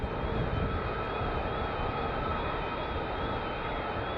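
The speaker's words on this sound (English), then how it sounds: "two more F-35s" F-35 fighter jets pass over RAF Lakenheath with a loud, continuous, broadband engine roar. A whining tone wavers on top of the roar and holds steady throughout, with no voices.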